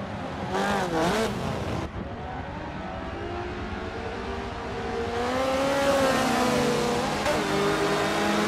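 Rally car engines, led by a Lancia 037, rev and accelerate in Forza Motorsport 7 showroom racing, a steady rising engine drone with gear shifts near the start and a climbing pitch later, no voices.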